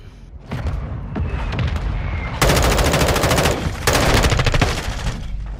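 M4 rifle gunfire in Call of Duty Modern Warfare 2 on PS5, loud rapid automatic bursts of evenly spaced shots in two long strings, preceded by scattered distant gunfire and booms, with no talk over it.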